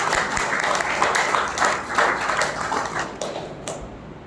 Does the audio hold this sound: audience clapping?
yes